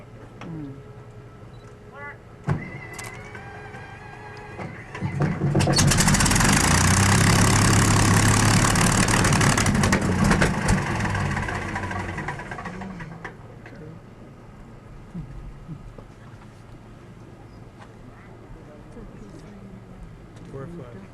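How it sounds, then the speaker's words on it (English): A machine engine idles steadily as its hydraulics come alive, bringing a loud, rushing surge of mechanical noise for several seconds in the middle before it settles back to a low idle, with voices talking faintly nearby. "there's hydraulics come alive"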